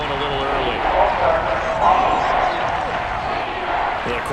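A stadium crowd in the Madden 22 football game roars with a steady, wide wash of noise that swells slightly, under continuous commentator talk.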